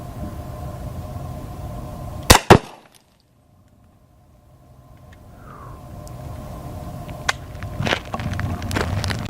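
A .40 caliber Kel-Tec Sub 2000 carbine fired at a target 10 yards away, two sharp loud shots in quick succession followed by near silence, then faint rustling and a few clicks at an outdoor range.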